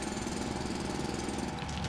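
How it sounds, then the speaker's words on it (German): Drilling away terrain in the factory-building game Foundry produces a continuous, dense grinding rumble that holds steady throughout without pauses or talk. "Bohren wir jetzt erstmal was weg."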